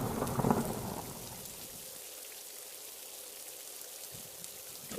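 Steady rain patters on surfaces with a low rumble of thunder early on, a moderate, continuous wash of rainfall forming the backdrop of a Hindi children's story about friendship.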